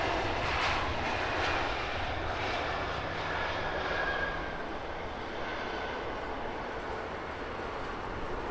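A British Airways airliner's jet engines roar at Heathrow Airport at sunset. The rumble is steady and broad, easing off slightly toward the end, with no voices.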